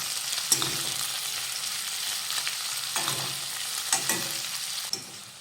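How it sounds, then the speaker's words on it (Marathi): Onions sauté in a pan for kaju masala with a steady close sizzle, and a spoon scrapes and stirs through them at intervals. "आता हा कांदा व्यवस्थित सॉफ्ट होईपर्यंत आपण ह्याला परतून घेऊयात"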